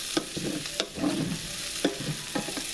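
Potatoes being stirred in a hot pan for mini sausage quiches, soft sizzling broken by repeated spatula scrapes and taps at an uneven pace, close and fairly quiet.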